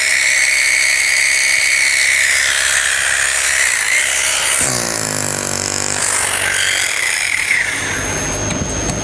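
An electric drill machine runs on a home solar power setup, giving a loud, steady whine that dips and shifts pitch midway before speeding back up, heard close with no talking.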